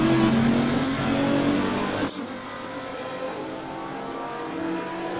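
Race car engines in a sim racing game at Zandvoort, with two Bentleys and an Audi chasing a Porsche: a loud, sustained engine roar with shifting revs and a sudden drop in pitch partway through, no voices.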